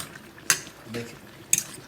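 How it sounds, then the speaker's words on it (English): Goat meat being stirred in a cooking pot for a Jamaican dish, with two sharp scraping clinks of a utensil against the pot about a second apart and a soft shuffle between them, fairly quiet and without talking. "making sure it's all stirred in."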